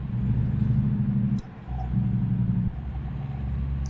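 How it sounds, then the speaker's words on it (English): A Peterbilt 579 truck engine in American Truck Simulator, a steady low diesel drone with brief drops like gear shifts while driving through traffic. "I'm running the Peterbilt 579 right now."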